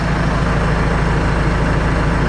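Engine of a 2023 Bandit 15XPC wood chipper idling, a steady close low rumble with an even pulsing throb held throughout, no feeding or revving.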